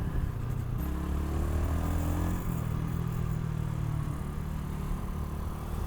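A Mash 250 Black 7 motorcycle with a Chinese-built engine is ridden, its single-cylinder engine droning steadily close by, pitch shifting through gear changes against wind rush, with no talk.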